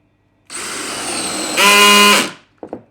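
A DeWalt DCD701 12V brushless cordless drill, clutch set to 2, whirs up loudly, rising in pitch as it runs at speed, then winds down and stops, followed by a couple of small clicks.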